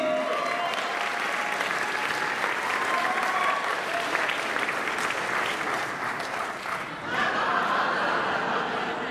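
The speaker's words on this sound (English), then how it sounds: "Make some noise for my friend, Susanna Lee" Sustained applause from a large audience fills the room with dense clapping, a few cheers and whoops rising over it.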